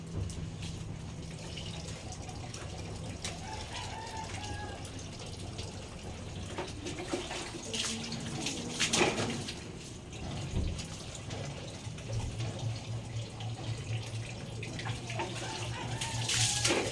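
Water runs steadily while dogs are bathed with soap, a continuous gushing wash with a few splashes and shifts in flow, fairly quiet and without talk.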